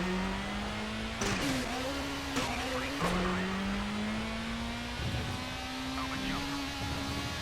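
Rally car engine in the RalliSport Challenge video game, a steady droning tone that dips and rises with gear shifts and throttle, continuous and fairly loud with a few brief knocks, no speech.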